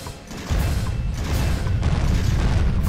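A cannon in The Legend of Spyro video game fires during a pirate fleet boss battle against Skabb. It produces a heavy, sustained low rumble with mechanical clanks, loud and dense throughout.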